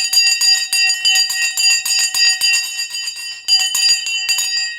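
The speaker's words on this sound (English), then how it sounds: "let's ring the bell" An electronic opening bell for a live stock market session rings in rapid, steady bursts for nearly five seconds, loud and close, with one brief pause before it resumes.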